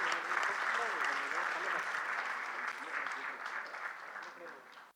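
Sustained applause from a convocation audience at an institute of information technology in Bangalore, a dense even wash of clapping heard at moderate distance with faint voices mixed in, cutting off abruptly.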